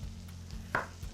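A knife chopping carrots on a board in a kitchen, a few soft, distinct chops at irregular intervals with one sharper cut, faint and close, no talking.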